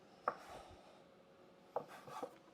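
Knife cutting flatbread dough in half on a board, two or three soft, short scraping thuds spaced apart, close but quiet.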